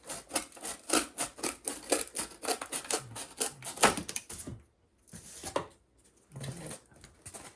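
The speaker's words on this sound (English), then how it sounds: "It'll be a little bit more difficult to cut through cardboard here" Scissors cutting freehand through cardboard for a homemade minibike photo frame, heard as a dense run of quick close snips and crunches that pauses, then resumes in short bursts.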